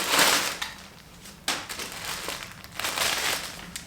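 Crinkling plastic packaging being handled and pulled open, a few sharp crackling bursts close by with quieter rustling between them.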